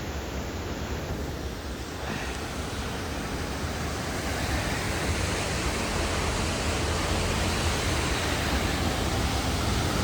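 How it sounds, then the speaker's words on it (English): Small waterfall on a mountain creek trail in Glacier National Park, a steady loud rush of falling water heard up close, continuous with no talk. "Now I can take a look at that little waterfall."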